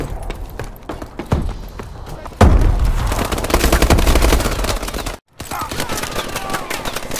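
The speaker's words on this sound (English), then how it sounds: "Where am I getting shot from?" Call of Duty gunfire rattles loudly in fast automatic bursts, with a heavy boom partway through and the shooting continuing densely after a momentary dropout.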